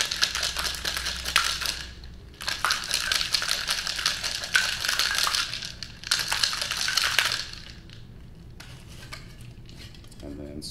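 Ice rattles hard inside a cocktail shaker in three long vigorous bursts with short pauses between, close and loud, then quieter clinks as it settles.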